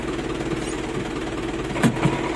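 An Isuzu 4JB1 diesel idles close by with a continuous, even rumble, and a couple of brief knocking clunks rise above it near the end, matching a noisy transmission.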